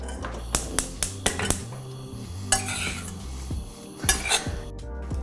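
Spinach and potato curry is tipped into a metal pot with sharp clinks and scrapes of utensils against pans, a run of quick knocks followed by softer stirring and a couple of louder clanks near the end.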